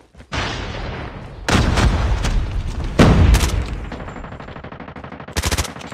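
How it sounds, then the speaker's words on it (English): Video game combat with a grenade explosion and bursts of gunfire, loud booms and rapid shots in several distinct blasts over about six seconds, with no speech. "Grenade out!"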